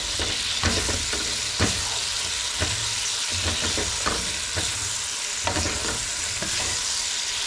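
Pak choy, pork and sauce sizzle steadily in a hot pan while being tossed, with a constant loud frying hiss broken by repeated clatters and scrapes of stirring, no talking.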